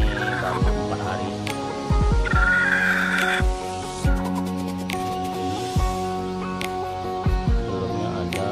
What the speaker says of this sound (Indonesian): Ini ayam saya ada yang baru mengerang ya.